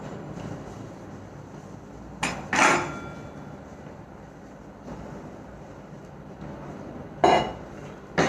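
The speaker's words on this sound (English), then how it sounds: "Before that, we are setting up our tray," A metal baking tray being set up for cheese garlic bread gives a few sharp clanks and knocks, a pair near the start and another later, over a steady low kitchen hum.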